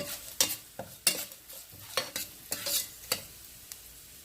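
Garlic frying in a pan for a yellow cucumber chutney, with a low sizzle under repeated sharp scrapes and stirs of a spoon against the pan, close and steady.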